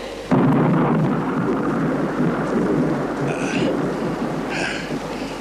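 Thunder breaks suddenly with a loud crack and rolls on as a heavy, continuous rumble during a storm, with a couple of fainter higher bursts near the end.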